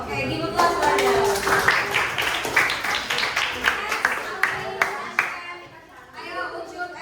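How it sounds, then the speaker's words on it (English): An audience claps steadily for several seconds, a busy patter of hands that thins out toward the end, with faint chatter running underneath. "give applause for them"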